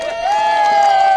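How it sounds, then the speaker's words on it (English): Crowd noise at a classic Ford show unveiling of a gold Escort Speedster, with a loud sustained whoop or whistle held over a general cheering din, close and brief. "Yes, a round of applause indeed."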